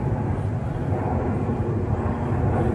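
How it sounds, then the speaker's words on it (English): An airplane passes overhead, producing a loud, steady, broad engine roar that fills the whole clip without letting up. "I hear that plane coming."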